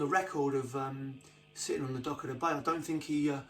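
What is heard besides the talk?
No everyday noise stands out behind the speech.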